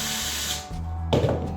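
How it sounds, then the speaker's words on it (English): A power drill whirring close up, briefly dropping in pitch before a short burst as it bites, no talking. "drill the centre of the first one"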